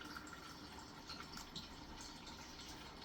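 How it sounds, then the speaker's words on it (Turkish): Water from a Tyent NMP 9 ionizer pours steadily into a glass, a soft continuous fill heard up close and quiet without any talking. "biraz su dolduruyorum"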